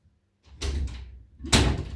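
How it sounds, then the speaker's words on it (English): A door being pushed fully shut indoors, with a close scrape and movement followed by a solid thud as it closes. "shut the door completely for me, Joe"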